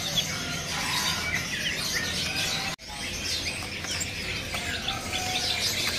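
Many caged birds, including green munias, chirp and tweet continuously at a bird-selling kiosk, a busy overlapping chorus with a brief dropout partway through.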